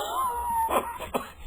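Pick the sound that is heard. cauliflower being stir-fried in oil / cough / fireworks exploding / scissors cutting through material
cough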